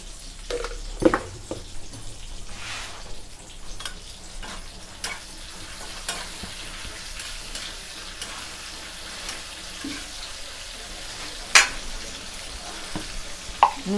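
Tomatoes with a pinch of salt frying in a kadai for a fish curry, a quiet steady sizzle with occasional stirring scrapes and a couple of sharp metal clicks, fairly faint and without voices.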